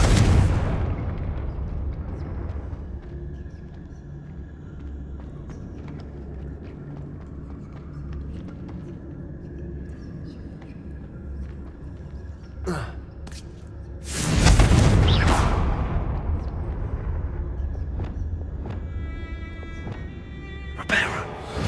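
Explosive fire spell blasts in Hogwarts Legacy on PS5 land as loud booming bursts at the start and again midway, with crackling debris and quieter in-game ambience and voices between them.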